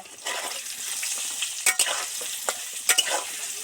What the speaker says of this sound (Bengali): উঠিয়ে দিয়ে ভালো করে ডিপ ফ্রাই করে ভেজে নেব।